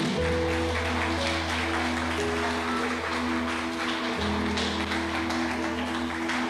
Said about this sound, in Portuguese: Aplaude a Jesus mais uma vez aí.